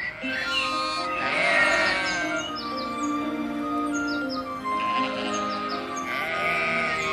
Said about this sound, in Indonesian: aku akan membawa domba-dombaku ke pegunungan untuk digembalakan